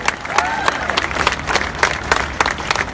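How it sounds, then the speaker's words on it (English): A protest crowd at NFL headquarters in New York City, rallying for Colin Kaepernick, gives a round of applause for Dick Gregory: dense, steady clapping with sharp individual claps standing out, moderately near, with faint voices mixed in. "Give Dick Gregory a round of applause"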